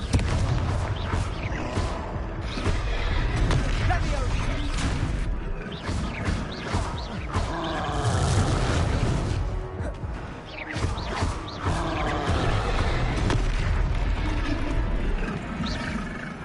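A Confringo fire spell goes off in a Harry Potter video game: loud, dense roaring blasts and crashes that swell and recur across the span, with heavy low rumble and a busy battle din throughout.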